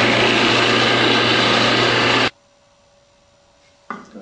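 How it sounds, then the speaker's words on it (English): A drill press with a Forstner bit cuts a shallow hole in a workshop, a loud steady whirring hum that stops abruptly, leaving a faint tonal whine before a brief clatter starts again near the end. "I'm going to start the drill press now"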